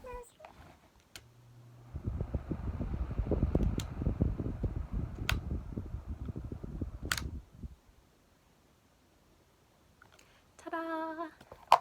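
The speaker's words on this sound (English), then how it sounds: "So now you have a working fan." An electric fan, just cleaned and reassembled, is switched on and runs with a close, fluttering whir for several seconds, then stops. A short electronic chime follows.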